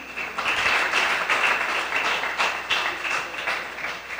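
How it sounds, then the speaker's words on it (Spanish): Audience applause after a public-speaking exercise, a dense steady patter of many hands clapping filling the room for several seconds at moderate loudness. "dense un fuerte aplauso"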